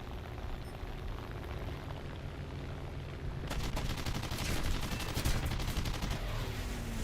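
Aircraft guns on an IAR 93B jet in the game War Thunder, a dense rapid burst of firing that starts abruptly midway and continues loudly over a steady engine roar.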